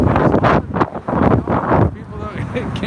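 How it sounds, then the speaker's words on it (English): Outdoor wind buffets the microphone in strong, uneven rumbling gusts, mixed with a person speaking close by. "It's windy, yes."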